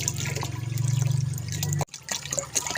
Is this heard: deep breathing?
no